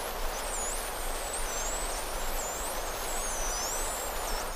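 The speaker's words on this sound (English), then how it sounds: "a common dolphin sounds like this." Common dolphins whistle underwater, recorded by submerged microphones: several high, rising and falling whistles layered over a steady hiss of ocean noise.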